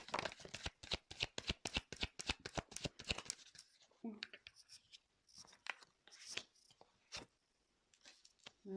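Tarot cards being riffled and shuffled by hand, a quick run of crisp flapping ticks up front, then scattered slides and taps, close and quiet.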